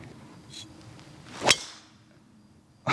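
A sharp swish and crack of a golf driver striking the ball, one quick hit standing out against quiet outdoor background.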